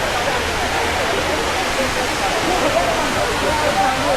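Steady, close roar of waterfall spray at Anchuruli, a dense broadband wash of falling water blown by the wind that continues without a break.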